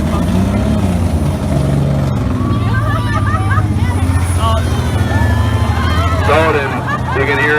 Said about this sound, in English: You can hear the engine like puffing and puffing.